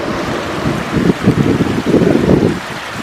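Gusty wind blowing outdoors in a field of dandelions, buffeting the microphone with a steady low rush that swells in stronger gusts midway, no voices present.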